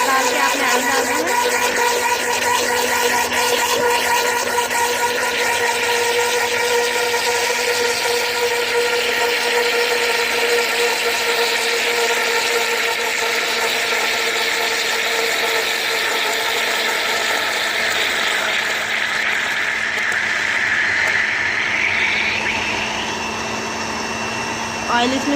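A blender runs steadily as oil is added to eggless milk mayonnaise, making a loud, continuous whirring drone whose pitch shifts near the end, with someone talking over it.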